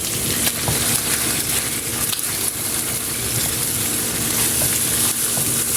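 Pork tongue sizzling in a hot pan as tomato sauce goes in, a steady loud crackle and hiss of frying with faint stirring and bubbling throughout, no voices.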